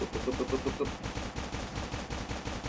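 Rapid gunfire at targets on a Call of Duty Mobile training range, a fast rhythmic string of shots at moderate volume with a voice speaking briefly over it.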